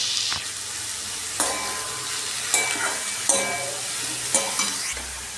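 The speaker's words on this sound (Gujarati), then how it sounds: "હવે કોબીજ ને બટેકા નાખી દઉં।" Cabbage and potatoes frying in a pan of oil for a Gujarati mixed vegetable dish, with a steady sizzle and a few sharp stirring scrapes and clinks spaced through it, close and alone.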